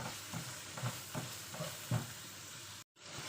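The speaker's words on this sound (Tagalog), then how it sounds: "Yang sangkutsa lang natin yung bagoong natin para maglasa, mas mabango kasi pag naluto yung ating bagoong." Shrimp paste (bagoong) sautés in a pan for pinakbet, with soft steady sizzling and a few light stirring scrapes, fairly quiet and without talk.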